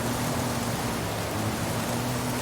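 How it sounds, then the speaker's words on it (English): Heavy storm rain in the racing game Forza Horizon 5, a loud, dense, unbroken hiss of downpour with a faint low hum beneath. "Seeing the, you know, just rain come down in sheets is great, very dynamic."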